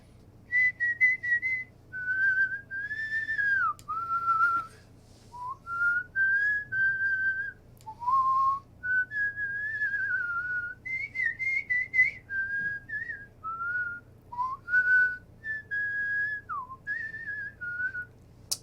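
One person whistles a wandering, continuous melody, breathing both in and out so the tone never breaks, with brief dips and slides between notes; close and clear over faint low background hum.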